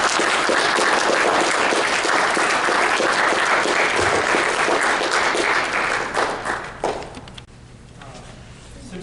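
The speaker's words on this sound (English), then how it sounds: "So let's hear a round of applause." Applause from a conference audience greeting a keynote speaker, the CEO of a military training systems company: dense, loud, sustained clapping that fills most of the stretch before thinning and fading out near the end.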